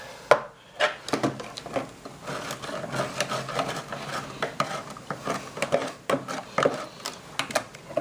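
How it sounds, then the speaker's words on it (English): A tool scraping wax off a wooden beehive frame, a steady run of close, dry scratching and rasping strokes with sharp knocks and clicks between them, with no voice over it. "when you scrape a frame down, you get quite a bit of wax"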